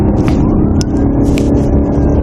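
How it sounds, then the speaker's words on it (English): A state trooper's patrol car siren wails over a loud, rumbling engine, the tone sweeping continuously while the vehicle roars close by. "Also be advised, I've got my siren back."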